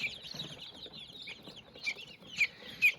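Bantam Cochin chicks, likely porcelain, peep in high, thin chirps, a few sharper calls standing out near the end, fairly close, with no talk.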